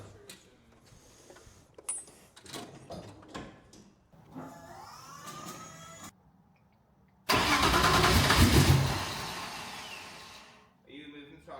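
A Formula Drift pro car's engine runs under mixed talk, then a loud, dense burst of engine roar lasts about three seconds as the throttle opens, before dropping back off.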